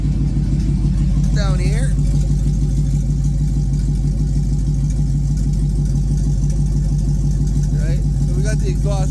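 An LS-swapped truck engine idles with a steady, rhythmic low chug that stumbles slightly now and then from a slight misfire; a person speaks briefly over it.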